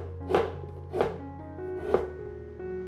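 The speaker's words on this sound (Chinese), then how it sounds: "把红萝卜切丝" A knife cuts a peeled carrot into slices and then thin strips, giving three distinct knocks on a cutting board spread out over about two seconds, fairly close and clear, with a low steady hum underneath and no talking.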